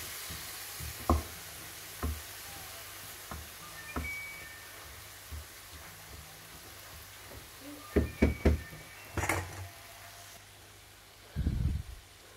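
Minced meat for lasagna frying in a pan gives a soft, continuous sizzle, broken by scattered knocks and scrapes of a spoon stirring, with a louder cluster of clatters near the end.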